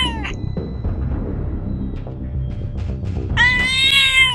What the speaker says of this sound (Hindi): एक काली बिल्ली उसके पलंग पर बैठी हुई थी।